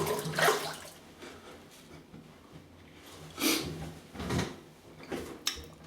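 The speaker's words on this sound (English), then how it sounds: "Once I'll rinse off with cold water, they should disappear." A car is rinsed off with cold water in several separate splashing bursts, fairly close, with quieter gaps between them and no talking.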